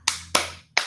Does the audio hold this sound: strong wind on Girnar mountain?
no